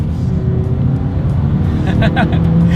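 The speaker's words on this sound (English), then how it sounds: "Let's do a quick little acceleration here in the 2020 Yaris, and let's see how quickly we can get this one here up to speed." 2020 Toyota Yaris, a small 106-horsepower car, accelerating from the cabin, with a steady loud engine drone building throughout and a rising note near the end.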